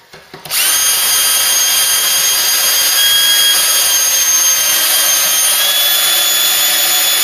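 Power drill with a cutting-oil-dipped bit boring into a Mk3 Cortina's metal, starting abruptly after a brief pause and holding a steady, loud high whine to the end.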